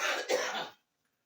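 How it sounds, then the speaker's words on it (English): A single short cough, close and fairly quiet, after a bite of pepper while cooking in a kitchen, with a brief throat-clearing quality before silence. "Hear me coughing?"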